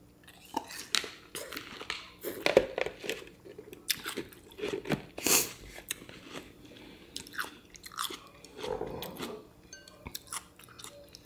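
Watermelon being chewed mid-meal at an eating-show dinner of shrimp tom yum ramen: close, wet, juicy crunching and smacking bites in an uneven rhythm, with faint breathy sounds between them.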